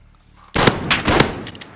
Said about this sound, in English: I just got two shots off on him.